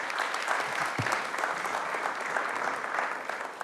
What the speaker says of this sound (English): let's just give one more round of applause for our incredible students and teachers and faculty